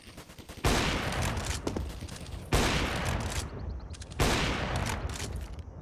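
Counter-Strike gunfire on the map Ancient, shots fired through walls: three long sustained bursts of loud rapid fire, each starting abruptly and separated by brief gaps, dense and close with no talk.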